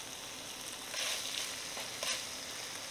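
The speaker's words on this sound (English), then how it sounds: "I'm gonna turn that fire up on the medium." Seasoned beef sizzles on a pan over a medium fire, a faint, steady frying hiss with a couple of brief swells.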